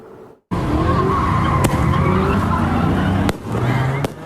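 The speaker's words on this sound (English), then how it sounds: "Fireworks in the air and tires screeching on the road." Loud, continuous tire screeching from a car skidding at a street takeover in Clark County, with fireworks popping sharply near the middle and end.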